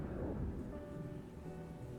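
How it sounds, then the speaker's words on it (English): Rain pours steadily under a low rumble of thunder in an animated RWBY episode, faint and continuous throughout with no talk. "Now it's raining on just us."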